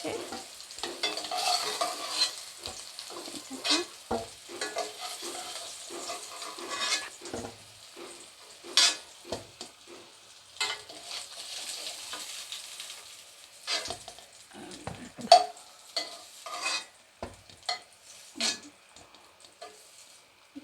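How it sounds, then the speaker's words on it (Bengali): Potatoes frying in oil in a pan, stirred with a utensil: soft continuous sizzle with repeated scraping and clinking stirs, close and fairly quiet, no talk. "এবার এটা আমার আলুটা ভাজা হয়ে গেছে।"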